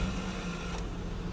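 A 2001 Holden Commodore Acclaim sedan engine idles steadily after starting, a low, even hum with a faint whine heard from close by and without voices.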